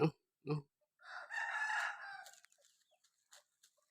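Two sharp clucks from a hen, then a rooster crows loudly nearby, trailing off into a few soft clucks.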